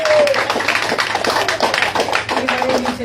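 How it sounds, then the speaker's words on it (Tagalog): Steady rhythmic hand clapping from a church congregation rings out close and lively, with brief voices heard under it. "Yung mga palakpak nyo parang kandilang nauupos."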